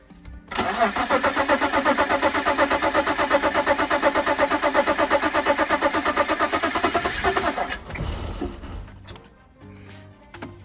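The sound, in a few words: BMW E34 Touring engine starting after oil change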